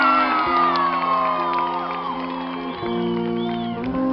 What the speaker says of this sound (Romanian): multe aplauze pentru maestru de balet Florin!